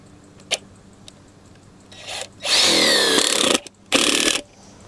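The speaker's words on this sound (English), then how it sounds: "I've also started to use these drill-in pegs" A loud power-drill whir driving drill-in tent pegs runs for about a second, stops briefly, then returns in a second shorter burst, with a few clicks and rubbing sounds before it.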